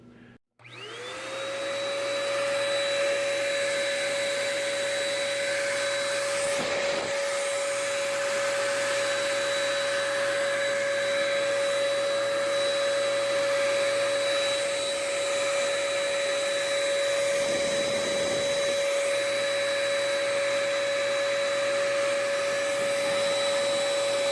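A small paint spray gun runs continuously with a steady, high whine and airy hiss like a tiny vacuum, starting abruptly and holding even through the clip with a couple of brief dips, close and alone.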